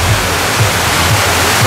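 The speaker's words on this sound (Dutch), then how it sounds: "En een waterval." A waterfall inside the station of the Untamed roller coaster at Walibi Holland gives a steady, rushing wash of falling water that fills the whole clip, with faint low murmurs of people nearby.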